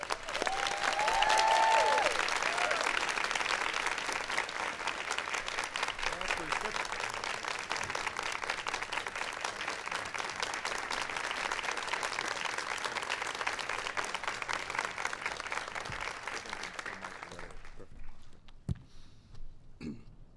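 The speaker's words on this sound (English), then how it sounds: "Give Jeff a big round of applause." An audience at the White House applauds for the National Teacher of the Year, steady full clapping for about seventeen seconds that then thins out and stops, leaving a few scattered claps.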